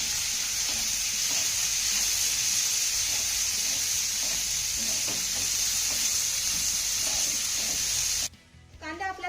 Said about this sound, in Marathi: हा कांदा आपल्याला चांगला सोनेरी रंगावरती परतून घ्यायचा आहे